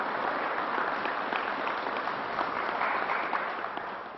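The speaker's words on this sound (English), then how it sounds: "Let's give Ms. Lewin another round of applause for getting it done." Continuous crowd clapping at a state news briefing honoring Ms. Lewin, a young cancer survivor who got her shot, a thick even wash of claps that holds steady and eases off slightly at the close.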